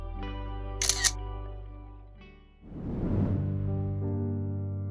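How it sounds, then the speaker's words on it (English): A camera shutter clicks twice in quick succession while taking a selfie, a crisp, close snap heard over soft background music. "Let's take a selfie."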